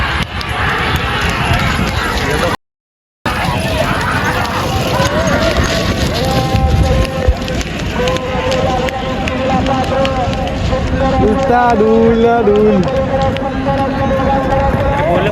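Racing bullock carts thunder past at a Shahapur bullock cart race in Maharashtra. A loud crowd cheers and shouts over the rush of hooves and wheels, and the noise is continuous and near, broken by one brief dropout.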